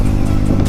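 Yamaha MT15 motorcycle engine revving on a road during a morning ride, a short loud burst of steady engine drone close to the recorder.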